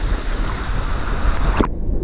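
Large ocean waves churn and rush at a beach resort in Guimaras, with loud continuous roaring surf and wind buffeting the microphone, ending in a sharp splash.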